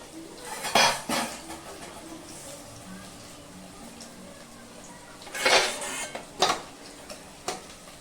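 Pots and dishes being scrubbed and washed, with metallic clanks and clatters in a few sharp bursts over a quieter background of rubbing and faint water.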